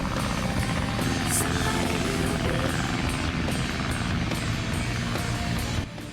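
A plane engine in the video game Sonic Adventure drones loudly and steadily as a dense, buzzing roar with faint rhythmic flutter. It carries on alone for several seconds, then drops off abruptly near the end.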